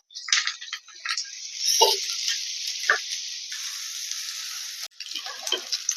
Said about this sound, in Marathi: मस्त आपल्या मिरच्या भाजलेल्या आहेत